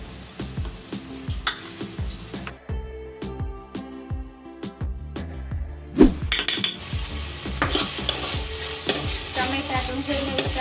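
Poha being stirred in a pan with lemon juice and spices, close rhythmic spoon scrapes and clinks against the metal over a frying sizzle that grows louder and denser toward the end.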